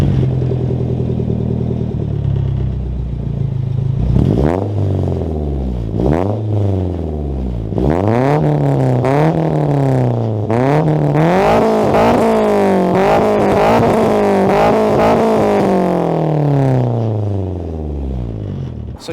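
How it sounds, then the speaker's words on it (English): A Nissan Silvia S14 with a Blitz Nurspec R exhaust and MagnaFlow resonator revs repeatedly, sharp rising and falling blips building to longer sweeping revs, loud and close with no talking. "Let's go ahead and give you guys an exhaust note."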